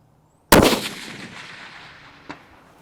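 A single loud rifle shot fired outdoors at a 500-yard target, a sharp crack followed by a long rolling decay, with a faint distant impact pop arriving about two seconds later.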